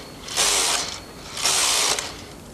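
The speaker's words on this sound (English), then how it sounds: "Knit one row on main tension plus 1 and return the tension dial to main tension minus 2." A Brother knitting machine carriage is pushed across the needle bed to knit a row, making two loud, close mechanical ratcheting sweeps about a second apart, separated by quieter pauses.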